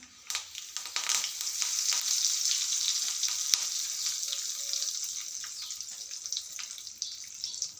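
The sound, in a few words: curry leaves sizzling in hot oil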